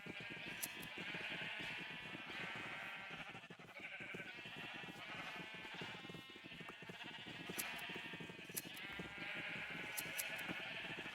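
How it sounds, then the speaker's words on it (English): Several sheep bleat repeatedly in Minecraft, overlapping calls from a pen at close range that continue almost without pause under a steady background. "We're almost done hearing these sheeps."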